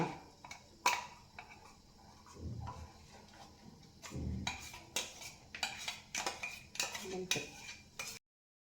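A spoon stirring custard powder into a mixture in a bowl for a homemade dessert, with quiet scraping and clinking against the bowl, irregular taps and a few louder knocks, fairly close and soft.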